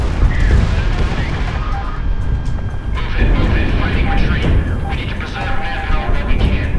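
Enemy aircraft gunfire in Project Wingman rattles in bursts over a loud, constant jet engine roar, with rapid shots crackling close by and a voice talking over part of it.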